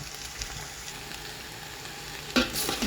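Vegetables stir-fried in a pan until partly cooked, a steady close sizzle with light scraping of the spatula, then a louder burst of frying near the end.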